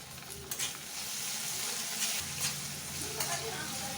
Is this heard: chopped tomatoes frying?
yes